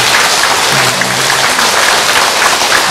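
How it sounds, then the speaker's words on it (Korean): Buddhist temple audience at a Dharma assembly clapping together in steady, dense applause that fills the room evenly, with a faint low voice or tone briefly underneath. "그럼 박수를 한번 쳐주세요"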